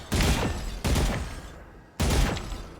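Three loud gunshots in the video game Valorant, evenly spaced booming blasts up close, each with a long fading tail and no talking.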